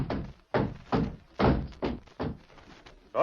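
Heavy repeated thuds of the Lone Ranger's horse Silver kicking at a wooden door, about seven loud blows spaced unevenly, close and booming, in a radio drama scene.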